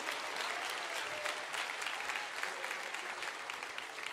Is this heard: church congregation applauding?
yes